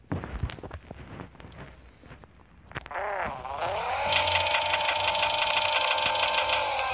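A Subaru WRX engine revs up hard at a race launch, rising from scattered rustling into a loud, sustained high-pitched roar that holds steady through the second half.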